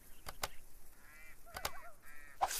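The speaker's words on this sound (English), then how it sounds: "Leave me alone, birds." Geese honk close by a fishing boat on open water, a few harsh bursts of calls rising and falling over a couple of seconds amid wind and splashing.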